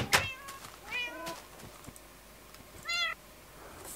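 Ocelot cat in Minecraft meowing three times: a sharp short call at the start, a longer wavering meow near one second, and a clear rising meow near three seconds, close and alone over faint background hiss.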